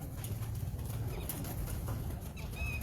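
Male and female teddy pigeons cooing softly at close range, with a few faint wing flutters and other small bird calls over a constant low background rumble.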